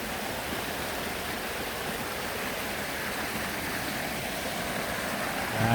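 A river flows steadily past an exhibition site in Indonesia, its babbling water forming a continuous, even rush close by with no break.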